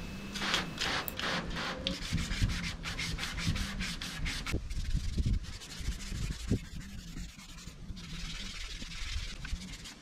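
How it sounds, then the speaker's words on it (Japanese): Body filler on a dented car panel being sanded smooth with 600-grit sandpaper, a steady close rasping scrub in back-and-forth strokes that continues throughout with no talking. "デコボコに削った面を600番で整えます。"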